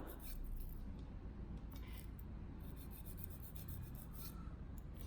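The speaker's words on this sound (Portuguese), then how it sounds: "E eu tô usando uma lixa de grano 180, que é a ideal para a gente usar na unha natural." A 180-grit nail file rasps steadily across a natural fingernail, a close, continuous scratchy filing sound with quick back-and-forth strokes and no talking.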